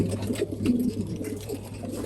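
Pigeons in a loft coo softly in low, murmuring calls over a steady background hum, the sound close and gentle.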